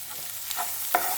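Chopped onions sautéing in a pan for broad bean stir-fry, a soft, close sizzle with light stirring scrapes across a brief moment, with no voices.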